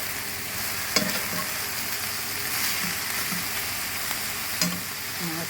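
Meat frying in a pan with no other ingredients, a steady crackling sizzle with occasional stirring scrapes and clinks, fairly close and alone.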